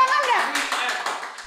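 A short burst of hand clapping, several quick claps in a loose rhythm, fairly close and fading slightly toward the end.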